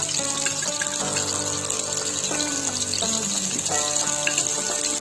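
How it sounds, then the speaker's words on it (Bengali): Boiled eggs frying in hot oil in a kadai, a continuous bubbling sizzle heard beneath prominent background music for the whole stretch. "কড়াতে তেলটা গরম হয়ে গেলে সেদ্ধ ডিমগুলো এখানে ছেড়ে দিচ্ছি"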